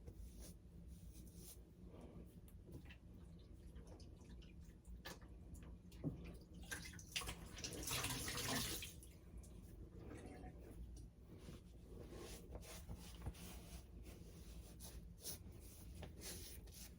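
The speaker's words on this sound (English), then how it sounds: "I have a bowl full of cold water. Do a cold water rinse here real quick." Razor rinsed in a bowl of cold water, faint splashing and sloshing with light clinks, swelling into a brief fuller swish midway, quiet and close.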